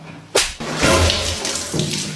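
Water splashing loudly in a sudden close slosh, then a longer churning surge that fades, with another smaller splash near the end.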